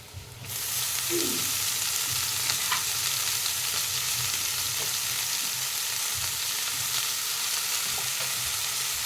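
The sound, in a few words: brinjal and fenugreek leaves frying in a pan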